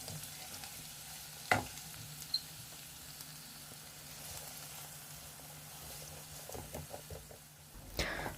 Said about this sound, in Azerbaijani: Soğanların tərkibindəki su çəkiləndən sonra üzərinə biraz doğranmış quyruq əlavə edib yenidən qovururam.